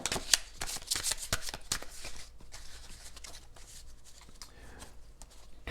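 Tarot cards being shuffled close by in a rapid flurry of papery riffles and taps that thins out into soft handling rustles.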